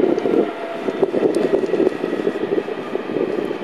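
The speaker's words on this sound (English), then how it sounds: "there's definite jet engines warming up over there" A distant, steady engine roar with a low droning whine persists throughout, as jet engines warm up far off at an airport.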